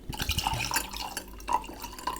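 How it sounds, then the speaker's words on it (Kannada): Water trickles and drips into a glass of absinthe to dilute it, a close, light pouring with small splashes and irregular droplet plinks lasting a couple of seconds. "ಸೊ ನೀರು ಹಾಕಿ ಇದನ್ನು ಡೈಲ್ಯೂಟ್ ಮಾಡಿ."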